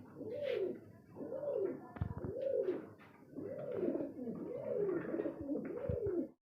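Several pigeons at a fancy-breed loft, including Danish, homer, potter and checker types, coo in repeated rolling phrases, close and steady for the whole stretch with no talk.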